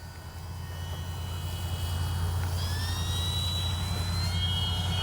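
A Kavan Pilatus PC-6 Porter RC plane, fitted with squishy Durafly Tundra wheels, doing a touch and go: a steady engine drone builds slightly and holds, with faint whistling tones drifting in midway.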